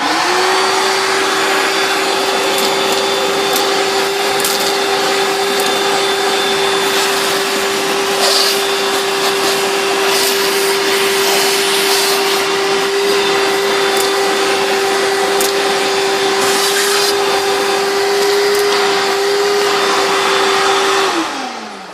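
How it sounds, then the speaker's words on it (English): A shop vacuum runs loud and steady with a constant whine and rushing air, close by, then winds down at the end. "So I'm going to turn on the vacuum now."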